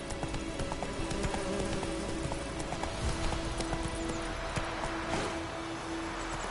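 Horse hooves galloping in The Witcher 3, a steady rapid clip-clop rhythm close and continuous over ambient game sound and a few faint clicks.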